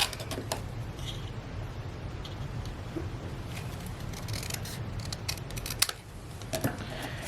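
Card stock for a handmade greeting card is trimmed close up, with a steady run of crisp scissor snips and papery rustle and no voices.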